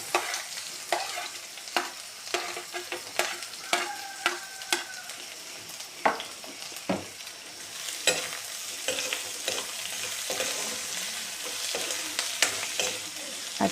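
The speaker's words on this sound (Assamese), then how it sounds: "এতিয়া পিয়াজ নহৰু কেঁচা গোন্ধ যোৱালৈকে মই ভাজি থাকিম।" Onion and garlic fry in a hot pan for dal fry, with a steady close sizzle broken by frequent sharp scrapes and clacks of a spatula stirring them, no voices.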